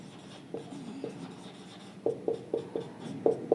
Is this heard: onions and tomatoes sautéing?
no